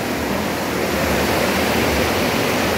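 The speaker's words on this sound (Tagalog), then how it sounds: "Ragasa oh. Nagragasa." Floodwater rushes in a steady, loud roar as the swollen current pours down from the mountains in Mindanao, broadband and unbroken throughout, with no voices.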